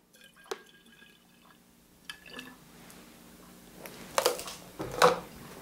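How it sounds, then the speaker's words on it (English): Liquid poured into a Coke bottle: scattered drips and splashes at first, building to louder gurgling, filling sounds near the end, close and clear with no talk. "if we were to pour some more liquid in here"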